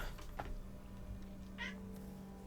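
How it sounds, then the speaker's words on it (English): A house cat named Beefies meows indoors, one clear short meow standing out over a steady low hum and faint background noise. "I hear your meows, Beefies"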